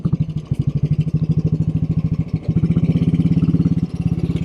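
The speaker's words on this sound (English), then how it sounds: "So I am on a 1957 Royal Enfield Bullet." A 1957 Royal Enfield Bullet 500 single-cylinder motorcycle, made at the Redditch factory and in incredible condition, idling close by with a loud, steady, even thump that briefly stumbles and then picks up slightly faster.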